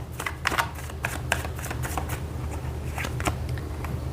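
Tarot cards being shuffled by hand, a steady run of quick papery riffles and soft flicks close up, with no talking.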